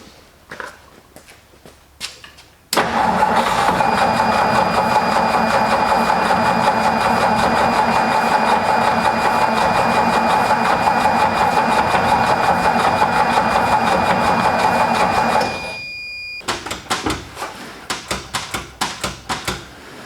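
The fuel pump on an old truck pumps fuel with a loud, steady, rapid ticking drone lasting several seconds, bracketed by scattered sharp clicks before and after.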